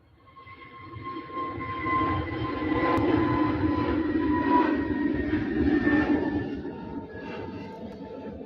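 EasyJet airliner taking off at Manchester Airport, a broad sustained jet roar with engine whine that swells and holds steadily from a moderate distance, with no talk.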